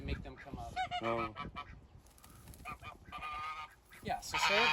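A rescued goose on a family farm in Boise, Idaho honks repeatedly at close range in loud, uneven bursts, with other farm fowl and ambient noise around it.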